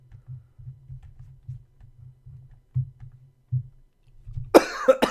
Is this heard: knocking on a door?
no